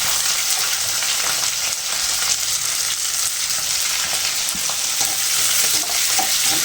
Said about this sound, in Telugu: ఈ బుడంకాయని ఫ్రై చేసుకోవాలి.